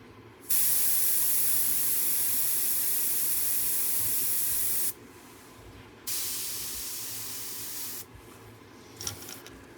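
An airbrush or spray can sprays sepia paint over orange in three long, steady hissing bursts separated by short pauses, close and loud, followed by faint clicks and small knocks at the end.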